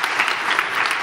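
Applause from a conference audience at a results presentation, a steady, dense clapping that fills the whole second with no voices on top.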